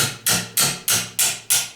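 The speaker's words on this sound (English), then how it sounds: "Again, just take the hammer," Five evenly spaced light hammer taps on the bolts of a Tremec T5 transmission case, each a sharp close metallic strike with a short decaying ring, about a third of a second apart.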